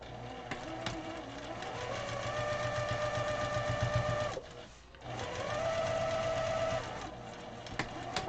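Sewing machine stitching along pillow seams, a steady close mechanical whirring hum that pauses briefly midway and then resumes, with faint talking underneath.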